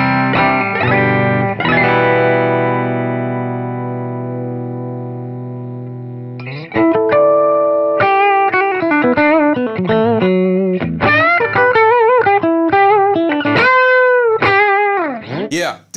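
Slick SL 60 doublecut electric guitar on the bridge pickup, a long sustained chord ringing out and slowly fading, then a run of loud, bright single-note phrases with bends.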